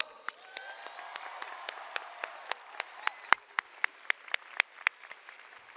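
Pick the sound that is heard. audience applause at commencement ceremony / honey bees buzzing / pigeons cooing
audience applause at commencement ceremony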